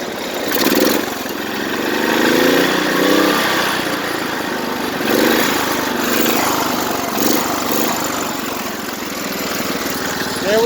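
A Sears lawn tractor engine runs at a steady, fairly loud drone, rising in a couple of rev surges before settling back, with no talk over it.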